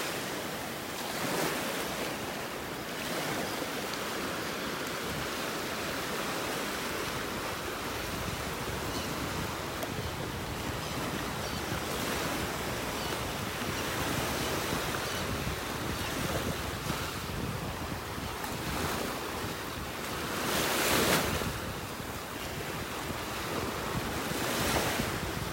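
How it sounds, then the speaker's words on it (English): Gulf surf breaks along a North Naples, Florida beach over sandbars, a continuous roar of waves with gusting wind buffeting the microphone and a louder surge near the end. "You can see they're underwater out there now, where those waves are breaking."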